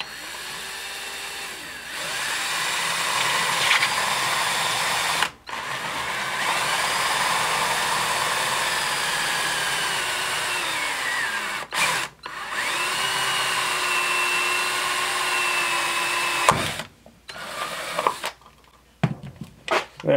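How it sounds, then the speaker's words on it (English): A power drill bores a hole through a jar cap, running in long steady whining bursts with small pitch drifts, stopping briefly between runs and ending with a few short stop-start spurts, close up and alone. "So just slightly with the weight of the drill, without pushing, drill your hole."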